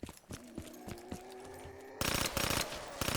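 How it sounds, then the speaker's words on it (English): Rapid gunfire from a burst-fire weapon in a Call of Duty Black Ops 3 custom zombies map, sharp shots in quick clustered bursts, quieter at first and then louder and denser toward the end. "It's like a 3-shot burst, but fully auto, which is weird."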